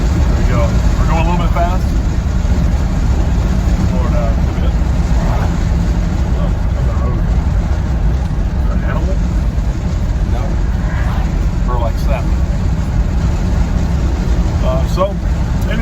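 An '86 Dodge D150 Royal SE pickup driving on a freshly rebuilt transmission, its engine a steady, constant drone with road rumble throughout, heard from inside the cab with people talking faintly over it.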